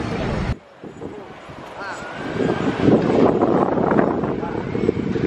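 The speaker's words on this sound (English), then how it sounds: "A little windy" Steady wind blows across a beach in warm weather, a broad rushing roar with mic buffeting that builds and stays loud through the second half, with voices and faint background activity underneath.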